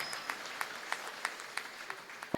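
Audience applause at a Tamil debate event, a crowd clapping with sharp, irregular claps over a steady wash of hand noise that fades toward the end.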